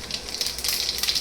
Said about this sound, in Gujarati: જીરું નાખી દેવાનું